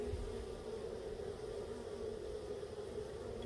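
Honey bees from a hive buzz in a low, steady, faint drone that holds without a break, with no talking over it.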